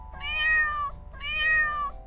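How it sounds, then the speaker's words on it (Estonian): A domestic cat gives two drawn-out, clear meows about a second apart, close and fairly loud over a faint low background hum, with no talking. "kass."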